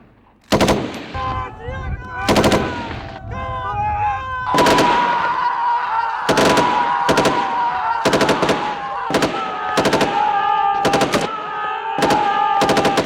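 Heavy machine gun fire hammers out in loud, close bursts of rapid shots separated by short gaps, with a tonal whine or voice-like sound running underneath.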